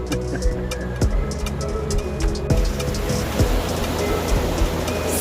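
Rushing water on the Ingleton Waterfalls Trail, a steady dense roar filling the background with no speech, continuous and moderately loud throughout.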